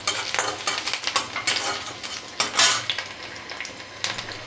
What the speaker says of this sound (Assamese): এইখিনি অকণমান লৰাই দিছোঁ এতিয়া